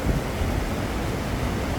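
Waterfall at Cascada La Mina, a dense, steady roar of rushing water that fills the whole clip close by, with no voices.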